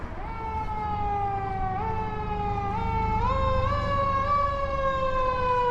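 Fire truck sirens pass along a city street, a loud steady wailing tone stepping in pitch over a low engine rumble with no talk.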